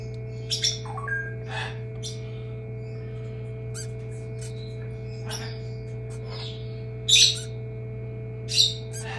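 A baby royal parrot gives sharp, loud squawks and chirps in short bursts against a constant electrical hum, with quieter calls scattered between the louder cries.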